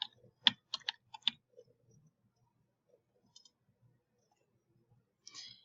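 Computer keyboard typing and mouse clicking while working in a spreadsheet: a quick, close burst of crisp clicks and keystrokes, then a long near-silent stretch with a few faint ticks, and a short rattle of typing at the end.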